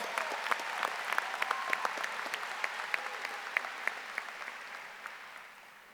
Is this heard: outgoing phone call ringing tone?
no